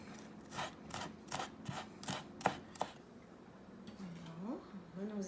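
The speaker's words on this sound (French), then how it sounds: "je vais avoir besoin d'un oignon vert que je vais hacher assez fin, le plus possible" A knife chopping green onion finely on a board, about nine quick crisp cuts in a brisk rhythm, then a short pause and a voice talking softly near the end.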